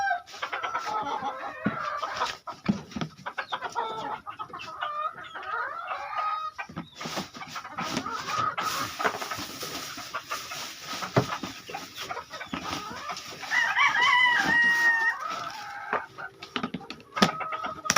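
Several chickens, including a hen, cluck and call continuously at moderate distance, with a brief higher rooster crow rising near the end, over steady outdoor background noise.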